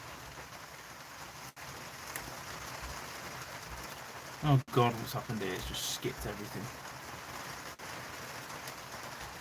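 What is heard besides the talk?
heavy rain falling outside a van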